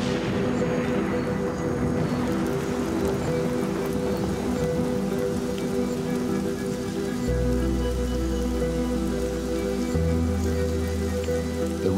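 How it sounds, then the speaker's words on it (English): Steady rain pattering on a surface at night in the African bush, dense and continuous, with a low hum rising underneath partway through. "The rain is a welcome relief, but Mike is struggling to collect it."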